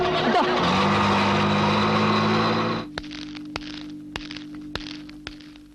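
A car pulls away in a movie scene with a loud, close engine roar for about three seconds that cuts off abruptly. A low hum and several sharp knocks follow.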